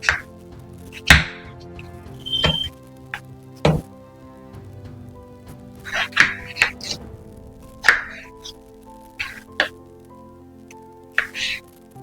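A knife chops peeled onion finely on a board, giving separate sharp knocks at an uneven pace, close and fairly loud against a quiet kitchen with faint background hum.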